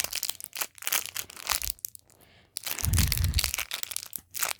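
A snack package being torn open by hand: bursts of crinkling, crunching plastic in short clusters, close and fairly quiet, with a brief pause midway.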